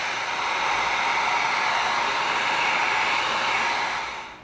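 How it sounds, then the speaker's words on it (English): Heat gun blowing hot air onto EVA foam, a steady close whooshing roar that holds evenly for several seconds and then tapers off at the end. "Get out our heat gun and tighten some of this up."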